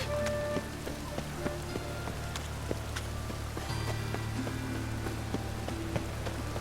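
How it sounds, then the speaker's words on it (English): Steady rain patters in The Witcher 3, a continuous soft wash of drops across surfaces with scattered sharper drips, fairly quiet and even throughout with no talking. "It just rains and rains."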